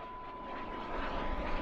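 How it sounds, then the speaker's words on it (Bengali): Aeroplanes circle overhead during an air raid, giving a faint, steady engine drone and roar that swells slightly, with no voices. "বিমল চেয়ে দেখল এরোপ্লেনগুলো মাথার ওপর চক্রাকারে দুবার ঘুরে যেদিক দিয়ে এসেছিল সেদিকেই আবার চলে গেল"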